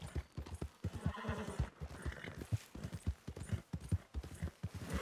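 In Red Dead Redemption 2, a horse's hooves clop in a quick steady rhythm while the animal neighs and whinnies partway through, all fairly close with no voices.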